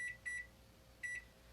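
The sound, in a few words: RV oven timer beeping while being set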